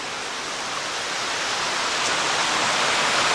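Kilgore Falls in Rocks State Park gives a steady, dense rush of falling water, heard up close and loud, with no pauses and no voices over it.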